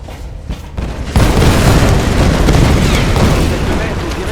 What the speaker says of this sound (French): on dirait que toute la montagne explose